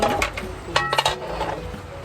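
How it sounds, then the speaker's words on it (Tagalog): Dishes clinking and clattering nearby as plates are washed under weak running water, plates and utensils knocking together in short bursts over a steady background hum. "maghugas dito na mga pinggan"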